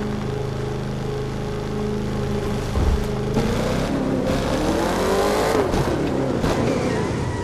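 A race car engine in the video game The Crew 2, a Mustang, revs and roars, pitch rising and falling as it accelerates, loud and continuous with a few sharp bumps.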